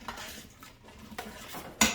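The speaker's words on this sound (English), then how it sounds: "Give it a nice stir" A spoon stirs a pot of plant-based Zuppa Toscana soup with oregano, smoked paprika, parsley, crushed red pepper, fennel and broth mix, giving scattered metallic clinks and scrapes that end in one louder clank, close by and without talk.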